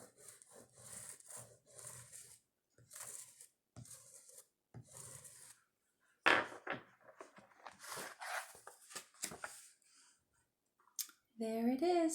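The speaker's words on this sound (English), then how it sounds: "I'm using the side of my crayon" The side of a crayon rubs back and forth across paper to make a leaf rubbing of a fern, producing rhythmic, close, scratchy strokes in short bursts, with a voice talking in between.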